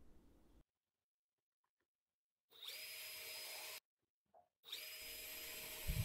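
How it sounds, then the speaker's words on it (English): A power drill whirs in two bursts separated by silence, each spinning up with a high whine as the bit bores through wood. "I was able to use the same jig to drill identical holes on the sides."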